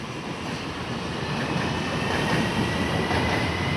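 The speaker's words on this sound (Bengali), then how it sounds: "এই যে ট্রেন চলে আইছে" A train pulls into a metro station in Malaysia, a loud, steady rumble of wheels and rail noise that holds for several seconds with faint clickety-clack and no voices.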